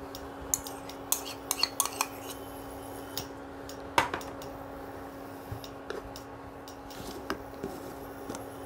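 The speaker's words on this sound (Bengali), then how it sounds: "কড়াইতে দিয়ে দিচ্ছি নারকেল।" Grated coconut is stirred in a wok with a metal spoon, producing scattered close clinks and scrapes against the pan over a quiet kitchen hum.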